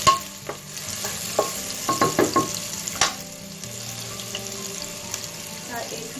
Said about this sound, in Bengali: পেঁয়াজটাকে হালকা একটু ভেজে নেব।